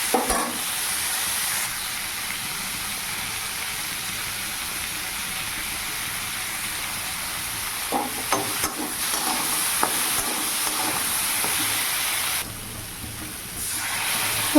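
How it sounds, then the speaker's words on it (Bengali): Potatoes sautéing in oil with salt, chilli, turmeric and tomato, a steady hissing sizzle with occasional stirring knocks and scrapes near the end, close and continuous without talk. "তারপরে আলুটাকে ভালো করে কষিয়ে নেবো"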